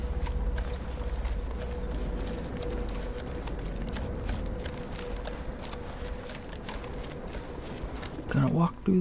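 Horse hooves clip-clop steadily in a creepy Battlefield 1 campaign scene, a regular walking rhythm of soft thuds over a constant low rumble, with a louder sharper sound near the end.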